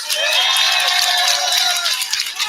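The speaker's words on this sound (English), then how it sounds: "give yourselves a round of applause" A crowd at a Stop Asian Hate rally in Little Tokyo, Los Angeles, bursts into loud, close applause and cheering with whoops and shouts, continuous for a couple of seconds before easing slightly.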